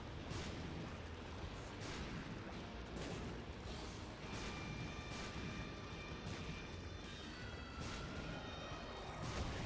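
Bombs blowing up in The Binding of Isaac video game, a dense run of repeated booming blasts and crashes layered over a constant busy game soundtrack, loud and continuous for nearly ten seconds with no voice.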